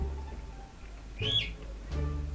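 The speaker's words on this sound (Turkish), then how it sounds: "Arkada kuşum ötüyor." A pet bird chirps in the background of a room, two short whistled calls, faint and distant against a low hum.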